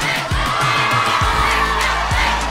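A studio audience at the Rap Việt 2024 competition show cheers for a rapper, a loud, continuous roar of crowd noise with whoops and shouts rising above it throughout.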